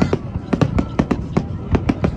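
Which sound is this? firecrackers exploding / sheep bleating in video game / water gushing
firecrackers exploding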